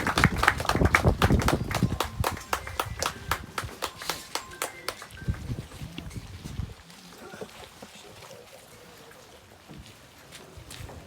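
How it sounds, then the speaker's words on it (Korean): Applause welcoming a choir from a performing arts troupe at a joint memorial for industrial accident victims, starting as loud, rhythmic, sparse clapping from a small crowd, then thinning to quieter scattered claps as it fades out. "봄날 우리 합창단원들 나올 때 큰 박수로 맞아 주시기 바랍니다"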